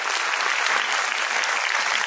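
Parents and guests at a school annual function applaud prize-winning junior students, a dense, steady burst of clapping from a large crowd that holds evenly for a couple of seconds.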